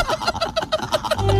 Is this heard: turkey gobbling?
yes